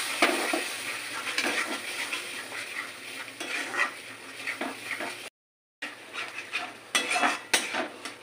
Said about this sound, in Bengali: এখানে আমি ভালোভাবে কষিয়ে দেবো